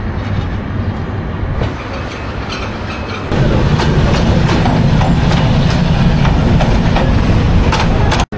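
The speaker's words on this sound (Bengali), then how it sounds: "সিরাজগঞ্জ থেকে চলে আসলো সিরাজগঞ্জ এক্সপ্রেস" The Sirajganj Express train roars past close by, loud and continuous, with rhythmic rattling of wheels on the rails that grows heavier partway through.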